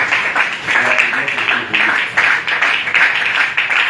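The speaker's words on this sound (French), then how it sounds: "Acclamons plus fort pour la gloire du Seigneur" A church congregation applauding and cheering at a Passover-themed service, a dense, steady wash of clapping with rising swells, loud and close, no talk over it.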